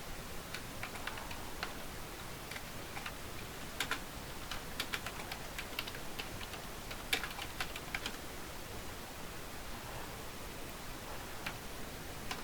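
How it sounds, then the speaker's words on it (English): Someone types on a computer keyboard, sparse soft clicks and taps scattered irregularly over a faint hiss, quiet and close with no voices. "you can type whatever you want"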